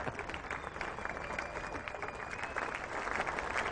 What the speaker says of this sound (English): Warm applause for Sachin Tendulkar.